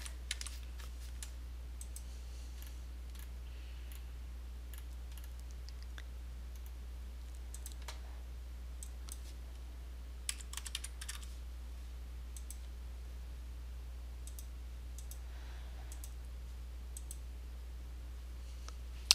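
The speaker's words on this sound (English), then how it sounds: "you might want to add what you purchased from Amazon" Computer keyboard typing while an expense is entered in Wave Accounting, with scattered bursts of light key clicks separated by quiet pauses over a faint steady hum.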